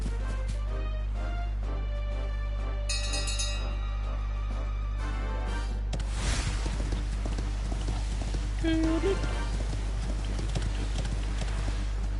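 Steady clip-clop of horse hooves in the video game Dragon Quest XI, with electronic game-style tones and faint talk, fairly quiet throughout.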